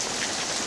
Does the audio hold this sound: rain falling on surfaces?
yes